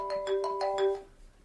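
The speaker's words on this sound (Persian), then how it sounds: "یه لحظه تلفن داری، یه لحظه بذار ببینم." A telephone rings briefly, a quick burst of five tinny, rapidly repeated electronic pulses, faint and close, ending abruptly.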